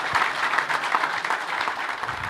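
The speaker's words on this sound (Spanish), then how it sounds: "Un fuerte aplauso." Steady audience applause at a Spanish-language seminar on transport externalities, welcoming a speaker to the stage; dense, continuous clapping from a moderately sized crowd, fairly near, with no talk over it.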